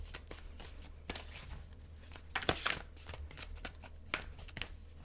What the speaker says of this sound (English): I know this is a very hard deck for me to shuffle.